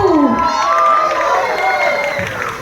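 Crowd of children and parents at an annual school function shouting together in one loud, rising collective cry that sustains and then fades over a couple of seconds.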